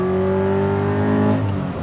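A Toyota GT86 engine wound out to high rpm, a loud, steady, harmonic engine note that holds strongly before easing slightly toward the end, with no talk over it.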